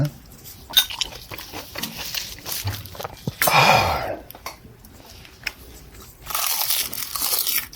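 Kimchi eaten with rice at a grandmother's home-style table at a small Korean shop, crunchy bites and chewing up close, mixed with clinks of cutlery and dishes and brief faint voices.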